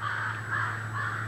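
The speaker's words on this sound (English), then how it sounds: "as you can hear, the morning birds are cheerfully waking us up" A crow caws repeatedly, three harsh calls in steady rhythm, clear and moderately near over a faint low hum, on a morning by the Ottawa River.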